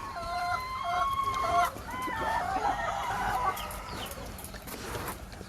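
Chickens clucking and a rooster crowing inside an urban chicken coop of 6 by 3 meters housing about 200 birds, a busy overlapping chorus of fowl calls at steady moderate loudness throughout.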